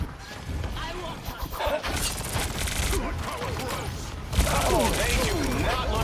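Rapid gunfire from an Overwatch-style shooter aimed at a Hela on high ground, crackling steadily through the whole stretch under game noise and busy in-game chatter, then swelling louder near the end.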